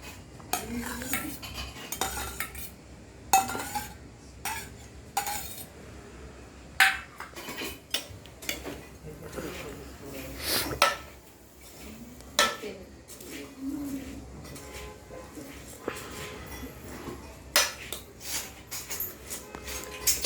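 Chana bhel with tomato is stirred in a bowl with a spoon, producing repeated close clinks and scraping taps in irregular bursts with short pauses between.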